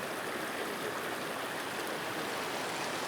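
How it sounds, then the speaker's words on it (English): Clear water from a small feeder creek near Ousel Falls in Big Sky, Montana runs gently and steadily, a continuous close burbling wash with no voices. "this gently running clear water, finding its way down to the bigger streams."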